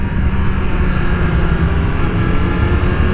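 A loud, steady two-stroke motorcycle engine drones continuously at high revs, close by, with no voices.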